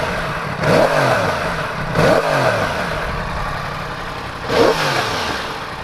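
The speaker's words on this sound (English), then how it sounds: "And you get it revving a little bit." A 2016 Yamaha R1S sport motorcycle engine idles, then revs sharply three times, each burst climbing and falling back, close and loud with no voices.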